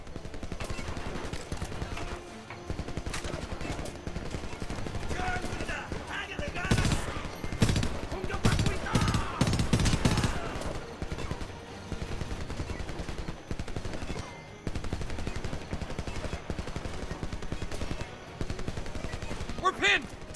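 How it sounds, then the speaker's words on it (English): Bursts of automatic machine gun fire in the video game Homefront rattle almost continuously through a battle scene, swelling into dense volleys midway, with shouted voices mixed under the shooting. "Take out those machine gunners!"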